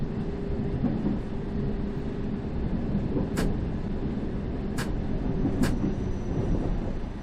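A London Underground tube train in a train simulator game rumbles steadily at close range, with a constant low drone and brief hissing bursts over it, alone without voices.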